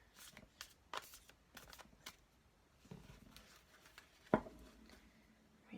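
A deck of tarot cards shuffled by hand in several quick riffles and taps, close and fairly soft, with short pauses between bursts and no talk.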